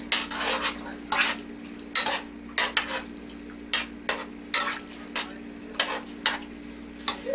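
Utensil stirring ketchup through a fried chicken mixture in a pot, with repeated scraping and clinking strokes in an irregular rhythm, close and fairly loud over a steady background hum, no talking.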